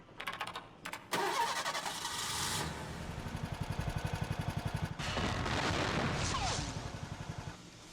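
A car engine starts in Conker: Live & Reloaded: a few clicks, then a cranking starter with rhythmic chugging, a brief cut, and a loud sustained revving idle, close and dominant with no talking.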